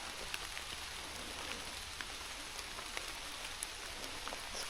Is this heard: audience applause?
no